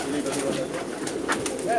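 Pigeons cooing softly at close range, several low, warbling calls repeating over a short stretch, with someone talking in the background.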